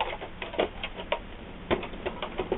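Screws being taken out of a Sony PlayStation 3 console during a teardown: faint, scattered light clicks and ticks from small metal parts and tools, heard close and without talk.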